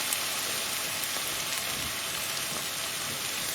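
Chicken vindaloo made with Patak's curry paste sizzles steadily in a pan while being stirred, a continuous close hiss like light rain with no pauses and no talking.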